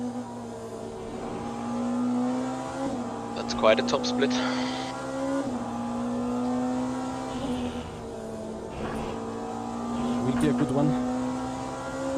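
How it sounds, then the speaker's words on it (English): A Porsche race car engine in a racing video game at wet Monza holds a steady high drone with shifting pitch and a few sharp gear changes, while someone talks briefly over it. "otherwise I will decrease the engine sound a little bit"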